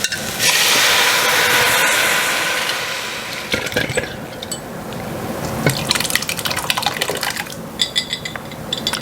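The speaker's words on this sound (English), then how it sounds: "now I'm going to add my tomatoes" Canned tomatoes are poured into a pot of spaghetti sauce with sautéed garlic, producing a loud close glugging, liquid pour that breaks into wet splatters and drips.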